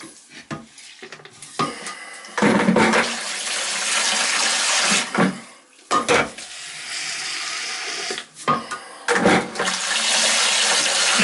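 A toilet in an ocean-side cottage being winterized flushes with rushing, gurgling water that surges and fades in bursts, close by, with no voices.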